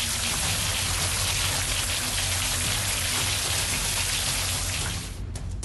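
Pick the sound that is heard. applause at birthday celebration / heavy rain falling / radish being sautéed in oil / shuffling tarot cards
heavy rain falling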